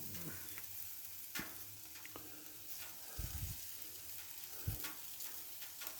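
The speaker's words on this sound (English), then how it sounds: "we've got some mushrooms in there. Let's get some capsicum in there as well." Mushrooms and capsicum sizzle on a premium flat iron griddle, a faint steady frying hiss broken by occasional scrapes and soft taps of a utensil, with no talk.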